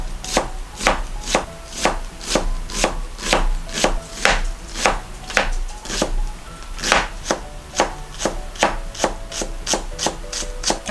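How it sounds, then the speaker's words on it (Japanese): A knife minces onion on a cutting board for meatballs, sounding as a steady run of sharp, evenly spaced chops that stay close and clear throughout, with no talking. "でもう1個みじん切りしていきます。"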